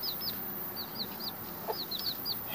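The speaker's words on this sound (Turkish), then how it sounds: "Yine diğer tavuk geldi." Several short clucks from a nearby chicken, scattered in quick bursts over a quiet background.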